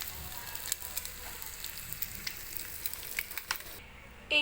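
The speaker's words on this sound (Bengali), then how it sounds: "ডিম ভাজা হয়ে গেছে, উঠিয়ে নেব।" An egg fries in a pan, giving a soft, steady sizzle dotted with small crackles and pops, quiet and alone with no talking.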